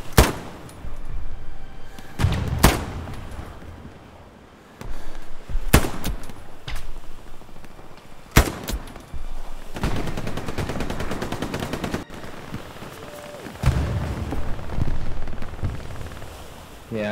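Hell Let Loose video game gunfire, single sharp rifle cracks scattered among stretches of rapid machine-gun fire, some close and loud, others more distant, with occasional voices underneath.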